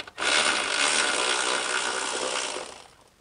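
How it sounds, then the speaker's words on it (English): A plastic bolt on the oil separator of a BMW E46 being unbolted with a power tool, one loud, continuous buzzing whir lasting about three seconds before it winds down. "now let's unbolt our oil separator."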